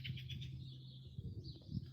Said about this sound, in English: we get loads of birds in the garden.